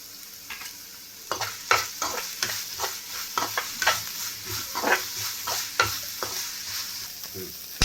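Mushroom curry frying in a pan and being stirred with a spatula, steady sizzle under repeated sharp scraping and clacking strokes at an irregular rhythm, close and fairly loud.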